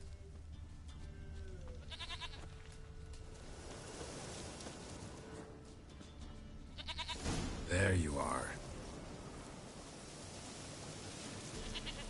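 A goat in the video game The Witcher 3 bleats a few times amid a steady outdoor ambience, with a louder burst near the middle and someone speaking briefly over it.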